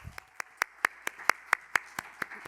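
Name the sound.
audience clapping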